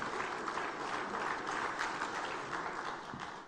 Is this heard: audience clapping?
yes